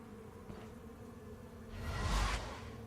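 Bees in the video game Stoneshard give a droning buzz that holds steady, then swells into a louder, rushing surge before easing off slightly, with no voices.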